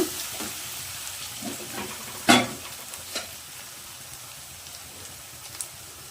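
Crab pepper gravy ingredients sizzle and fry in a pan, a steady crackling hiss with occasional stirring scrapes and one sharper clatter, close and continuous with no voices.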